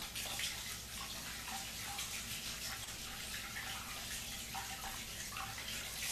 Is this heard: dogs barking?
no